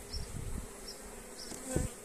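Honeybees buzz faintly around a hive, a thin drone with a few louder passes as individual insects fly close.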